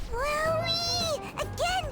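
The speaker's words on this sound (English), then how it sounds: "It meows when you press on its head." A toy cat in the game Persona 5 Royal meows when its head is pressed: two drawn-out, wavering mews, the first long and the second shorter, close and clear with a brief pause between.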